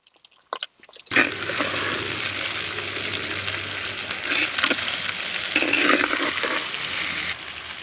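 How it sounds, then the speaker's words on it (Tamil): Country chicken pieces tossed with onion and curry leaves sizzle loudly in hot oil, a steady close frying hiss that starts abruptly after a few clinks and swells as the pan is stirred. "கறியை சேர்த்து வதக்கலாம்"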